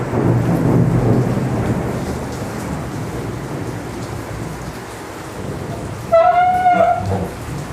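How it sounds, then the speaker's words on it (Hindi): Heavy rain falls in a steady roar with rumbling thunder rolling underneath. Near the end a brief tonal call rises above the downpour. "बारिश हो रही है बड़ी भयंकर"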